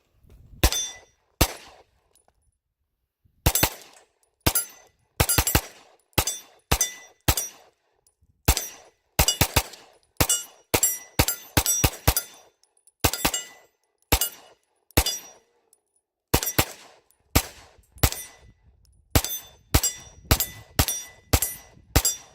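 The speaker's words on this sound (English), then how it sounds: "I'm just going to run these 50 rounds" Pistol fire at an outdoor range during a 50-round cleanliness test, a long string of sharp, loud single shots in irregular bursts with short pauses, close and dominant with no talking.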